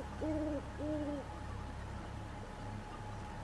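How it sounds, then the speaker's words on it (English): An owl in the Passing Pineview Forest video game hoots twice in quick succession, soft, clear and tonal, then falls silent over a faint, steady background hum. "Hello, cute little owl."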